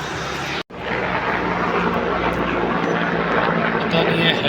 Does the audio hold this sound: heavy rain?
no